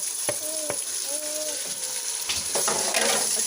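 Ground frozen tomatoes tipped into hot oil with fried ginger and garlic, giving a steady close sizzle and hiss that swells toward the end, with a few faint clinks of a utensil.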